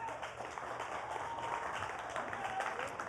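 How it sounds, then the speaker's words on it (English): An audience claps for panel members walking up to the stage at a church panel discussion, a soft, steady wash of applause heard from some distance throughout. "You can give them a round of applause."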